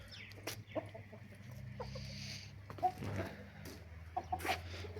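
A farmyard of chickens, young chicks and a large rooster chasing them about, with scattered soft clucks and a few sharp, close calls over a quiet outdoor background, no speech.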